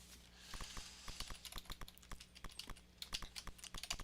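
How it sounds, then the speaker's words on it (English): Rapid typing on a computer keyboard during play of a MAME arcade or computer game, with dense, irregular key clicks running steadily for about four seconds, close and fairly loud, with no talk. "I just can't handle my typing speed."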